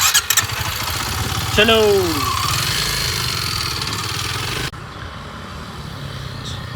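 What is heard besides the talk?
Kawasaki KLX motorcycle engine starting and idling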